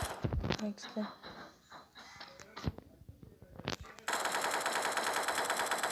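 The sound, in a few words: gunfire in video game Special Forces Group 2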